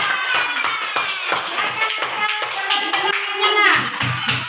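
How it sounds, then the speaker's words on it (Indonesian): Hands clap steadily through a classroom round of applause for students after a maths lesson on prime numbers, dense overlapping claps close by with children's voices mixed in. "Oke, baiklah, beri tepuk tangan."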